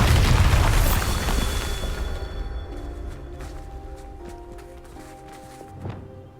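A Bombarda blasting curse goes off in Hogwarts Legacy, a loud, close explosion with a heavy low boom that decays into rumbling debris and scattered footsteps over several seconds.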